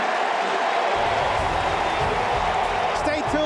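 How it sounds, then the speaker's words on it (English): Football stadium crowd at a Falcons–Cowboys NFL game cheering loudly as the first half ends: a dense, steady roar of many voices filling the whole stretch, with a broadcast announcer talking over it. "And the crowd loves it."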